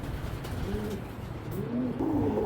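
A rare-eye racing pigeon coos in soft, low, rolling phrases, close by, repeating several times over a steady background hum with no talking.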